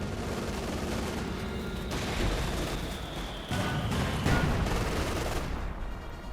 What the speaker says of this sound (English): Section here running straight into the Sturm Panzer, machine guns and so on firing away.